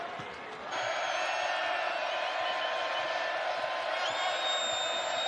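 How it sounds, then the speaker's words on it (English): Loud basketball arena crowd roaring and cheering during a game, a sustained wall of noise from the stands that jumps up sharply after a moment and holds, with faint whistles or squeaks over it. "Crowd is loud."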